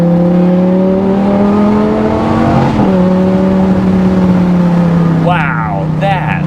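A Lamborghini Gallardo engine roars steadily through turns on a drive, with a loud sustained drone that dips briefly before pulling on, as occupants talk over it.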